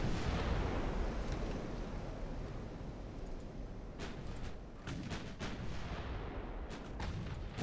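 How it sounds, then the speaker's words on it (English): Naval artillery in the warship game Ultimate Admiral: Dreadnoughts, a constant barrage of heavy gunfire rumbling without pause, with sharper cracking reports layered over the dense, loud low booming. "Just a constant barrage of fire here."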